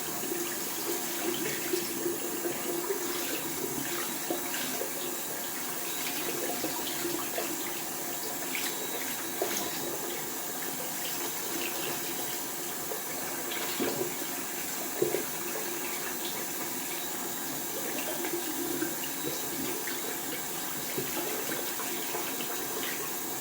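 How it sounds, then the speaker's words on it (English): A shaving brush is rinsed under a running tap after a wet shave, with steady, continuous water splashing and gurgling close by for the whole stretch and no talking. "We're gonna wash that brush out."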